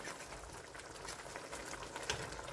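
A pot of liquid boils on a stove with a soft, steady bubbling churn and a few small pops, faint and continuous, with no voices.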